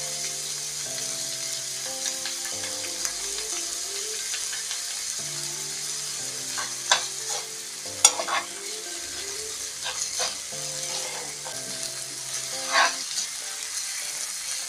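Soy sauce sizzles and fries in a hot pan for tacos de jamaica, a continuous crackling hiss broken by a few sharper clinks and scrapes as the mix is stirred.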